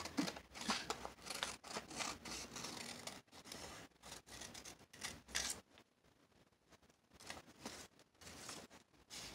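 Scissors snip paper while junk journal collage tags are cut, a faint series of close crisp cuts and rustles with a quiet pause partway through, no voices.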